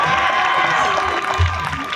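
Audience applause and cheering fill a graduation ceremony hall, a dense, steady wash of clapping with a few shouts rising near the end.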